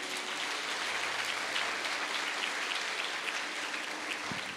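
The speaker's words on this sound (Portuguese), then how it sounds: "Você pode aplaudir Jesus?" Church congregation applauding, a steady dense wash of many hands clapping throughout, fairly loud and sustained with no speech over it.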